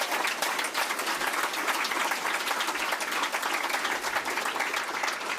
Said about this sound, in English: So a big round of applause for all of the candidates.